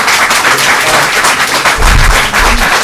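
Dense, sustained applause from an audience at a planning board public hearing, loud and continuous clapping with no pauses throughout.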